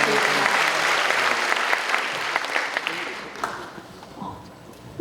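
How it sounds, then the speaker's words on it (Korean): A roomful of guests and schoolchildren claps loudly at an education vision ceremony, dense clapping that thins and fades toward the end, with a voice or two faintly mixed in. "큰 박수"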